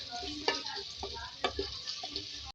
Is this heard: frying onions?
yes